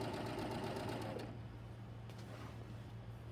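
A sewing machine stitching borders onto a quilt runs in a steady, fast mechanical whir, then stops abruptly partway through, leaving a low hum.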